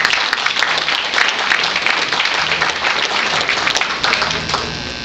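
A crowd at a brass band concert claps steadily and enthusiastically, a dense continuous patter of applause throughout.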